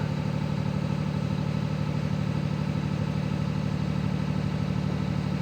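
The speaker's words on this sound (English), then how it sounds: "Rev it up a little bit." A Peterbilt truck's diesel engine runs steadily under light throttle, a continuous low rumble with faint clatter holding an even, close level throughout, no voices over it.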